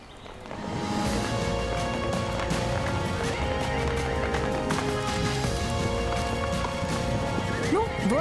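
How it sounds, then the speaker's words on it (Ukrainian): Spirited horses gallop during a Cossack-style riding show in Sedniv, Chernihiv region, hooves pounding under a continuous dense roar of activity and crowd noise. "Надто норовисті коні були цього дня."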